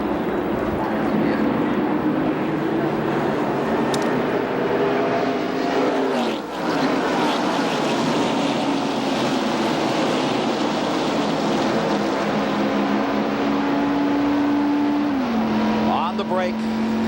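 NASCAR Winston Cup stock cars roar into the 1991 Daytona 500 start, a dense, steady engine drone filling the air with rising and falling pitch as the pack passes, loud and continuous, with a commentator talking over it.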